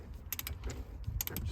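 A Chrysler 300 oil filter being screwed on by hand during an oil change, making a few faint mechanical clicks and creaks in two short bursts over a low background rumble.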